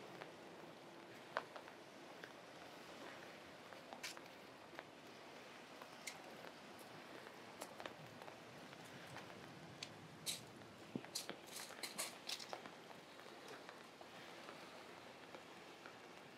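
Light rain patters on the wooden Changi Boardwalk in Singapore before a thunderstorm, scattered drops ticking and plinking close by over a soft steady wash, with no voices.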